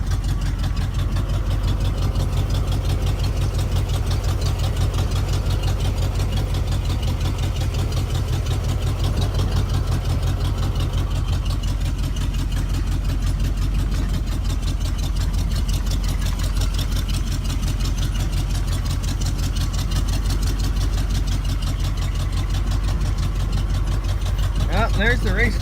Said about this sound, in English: Now I'm just gonna cruise it down through the field back here behind the house